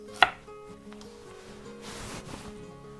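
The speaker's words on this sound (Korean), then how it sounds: "마늘 그냥 이렇게 편하게, 생강 반씩 잘라주죠" A knife cuts through garlic and ginger on a cutting board, giving one sharp, close chop at the start followed by quieter handling sounds.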